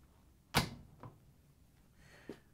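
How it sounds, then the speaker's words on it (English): An LG/Kenmore dryer door being swung shut, giving one firm thunk followed by a lighter knock and a faint later click, close and otherwise quiet. "Once you have the screws in, you can close the dryer door."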